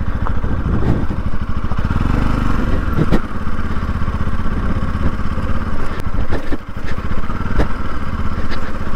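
Motorcycle riding downhill on a scenic mountain route in Reasi, Jammu and Kashmir, a steady close engine drone with rapid rhythmic putter and occasional rattling clatter, loud and continuous.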